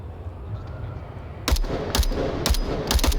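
M249 light machine gun firing in a tactical video game, several short bursts of rapid shots at a steady rhythm after a quiet lead-in, fairly close and sharp.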